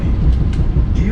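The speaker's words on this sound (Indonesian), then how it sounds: "Perlahan kereta meninggalkan Jakarta." A train leaving Jakarta rumbles and clatters at low pitch with steady rolling noise and faint squeals, close by, as if moving off slowly.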